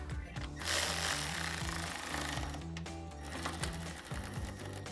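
A power ratchet drives T25 screws into a LED tail light on a 2019-2024 Ram 1500, giving a loud, close, continuous mechanical whir with rapid rattling pulses and a brief pause near the middle.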